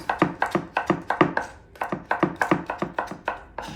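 A knife chops through papaya on a cutting board in quick regular strokes, each cut landing as a crisp thunk, with a short pause partway through.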